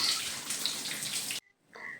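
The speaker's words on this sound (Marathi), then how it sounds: "आणि आता बघा पाण्याचे ते तुम्हाला धुवून दाखवते" Water runs and splashes over brass puja oil lamps being rinsed, a steady close gush for over a second that cuts off abruptly, then a softer trickle returns.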